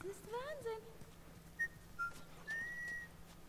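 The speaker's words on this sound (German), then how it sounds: "Ich pfeife." Character whistling in The Last of Us, a short series of rising and falling whistled notes, then a few clipped separate tones, close and clear with game sounds faintly underneath.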